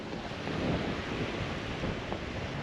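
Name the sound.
wind blowing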